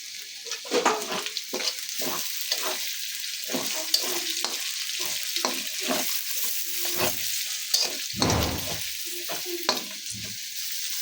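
Onions fry in a pan under a constant sizzle, broken by repeated scraping and stirring strokes that come in an irregular rhythm, close and fairly loud.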